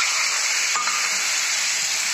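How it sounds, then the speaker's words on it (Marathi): Mustard and cumin seeds sizzle and crackle in hot oil for tempering a bitter gourd vegetable dish, a steady close hiss lasting a couple of seconds with no talk. "मोहरी टाकून तडतडले चांगले।"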